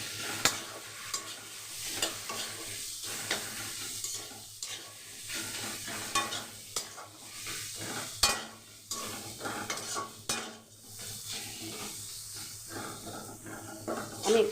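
Spiced mixture with chili powder sautéed in a pan, a constant frying hiss under busy, irregular stirring with spatula scrapes and clinks against the metal, close by and alone.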